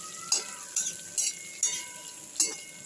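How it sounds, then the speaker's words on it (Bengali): Sliced bitter gourd fries in a pan on a home stove, a quiet sizzle broken by a few distinct stirring scrapes and clinks at irregular intervals. "এটাতে উচ্ছে ভাজাটা বসিয়েছি"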